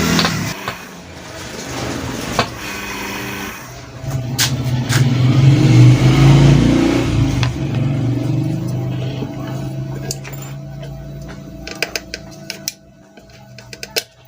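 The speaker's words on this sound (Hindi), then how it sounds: "मोटर हमारी चल चुकी है।" An electric churner motor runs after a bearing repair, humming and whirring steadily with a rise and fall in pitch, alongside clicks and handling noises near the end.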